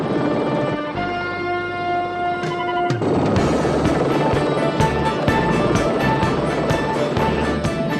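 Helicopter flying close overhead in a TV action drama, a loud steady rotor and engine roar that swells after a few seconds and holds, dense and continuous with no talk.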